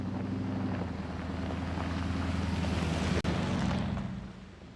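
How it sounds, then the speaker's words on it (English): A fast-flowing mountain river beside a trailhead gives a steady, loud, close rushing roar with a low rumble underneath, easing slightly toward the end. "any trail that starts off right next to a fast-flowing mountain river"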